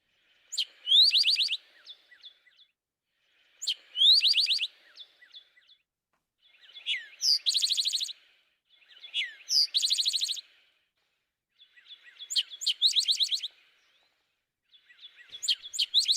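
Songbird repeating three distinct song types, each sung twice, as bright high chirping trills in six separate bursts with clean silent gaps between, loud and close with no other sounds.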